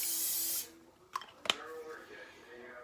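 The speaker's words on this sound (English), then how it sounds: "I'm going to spray it real well with cooking spray" Cooking spray hisses in one short, strong burst into a pot heating on high for chicken tortilla soup, followed by a couple of sharp clicks and a quiet kitchen background.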